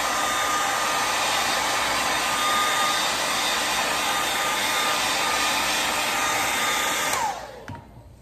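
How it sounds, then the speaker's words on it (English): A hair dryer drying a vinyl repair blows with a steady, loud, airy whine for several seconds, then switches off and winds down. "you can use a hair dryer to dry it rather quickly"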